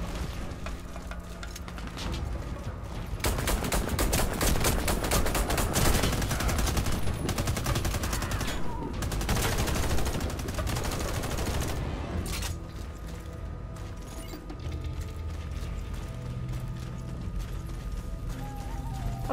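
Pistol fire in the shooter game Warface, heard as rapid, dense cracks of gunfire with mechanical clatter, loud and continuous throughout with brief lulls.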